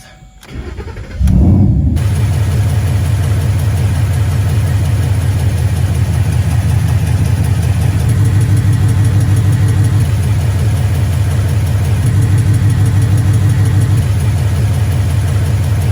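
A Ford Mustang engine treated with Marvel Mystery Oil cranks and starts, then settles into a loud, steady close idle with a continuous fine rhythmic tick running through it.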